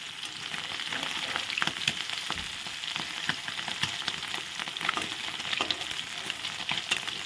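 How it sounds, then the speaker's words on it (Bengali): Oil sizzles in a wok heating for a spicy curry of fresh local morola river fish, a steady close crackle with scattered louder pops throughout and no voices. "এখন আমি আর একটা কড়াইতে তেলটা বসিয়ে দিলাম।"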